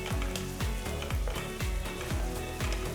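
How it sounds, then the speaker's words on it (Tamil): Two medium onions, finely chopped, sizzle in two tablespoons of sesame oil in a wide kadai, with a steady loud frying hiss and a rhythmic series of spoon strokes and knocks stirring them, no voices. "அகல கடாயில 2 டேபிள் ஸ்பூன் நல்லெண்ணெய் ஊத்தி 2 மீடியம் சைஸ் வெங்காயத்தை பொடியா நறுக்கி போட்டு வதக்குங்க."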